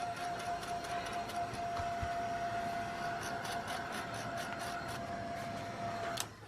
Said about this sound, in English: I'm gonna get my heat tool.